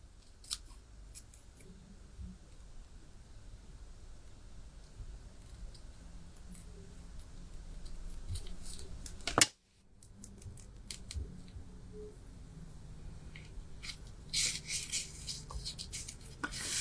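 Scissors snip steadily through card during autumn card-making at a craft table, with repeated close, crisp cuts and one sharper snap midway, and no talking.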